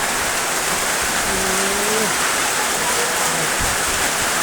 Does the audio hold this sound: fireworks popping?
no